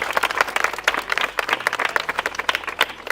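An audience claps for a girl, a loud burst of quick, irregular hand claps from a group nearby that continues steadily throughout.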